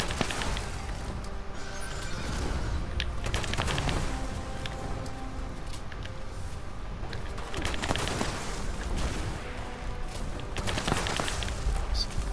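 Gunfire from a combat shotgun used by a medic class in a video game, heavy blasts in several bursts amid continuous battle noise, with other gunshots and crashes in the background.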